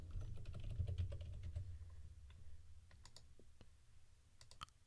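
Quiet, close keystrokes on a computer keyboard, with a quick burst of typing, then scattered single clicks and a last short flurry, and no one speaking.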